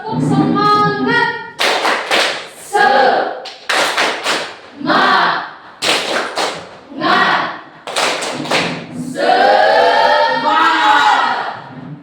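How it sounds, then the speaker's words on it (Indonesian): A group in an Indonesian Catholic religious education class does a rhythmic spirit clap, with bursts of patterned clapping and thumps mixed with shouted chanting voices, loud and close, in repeated phrases. "Kita tepuk semangat."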